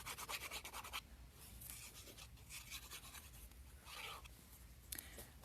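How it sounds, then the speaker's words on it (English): Paper is pressed and rubbed flat onto a card in bursts of close, dry rubbing and scraping, with short pauses between passes. "I'm going to just glue this on. It's going to glue on flat to the card."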